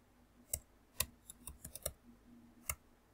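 Computer keyboard keys tapped while writing code, a handful of sharp, close clicks in an irregular burst with quiet gaps between.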